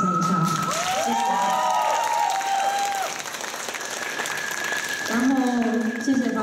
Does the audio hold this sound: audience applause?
yes